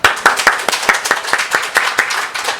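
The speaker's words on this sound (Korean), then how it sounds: "박수." Church congregation clapping together at a Sunday worship service, a steady run of sharp, even claps lasting a few seconds, close and fairly loud with no talking.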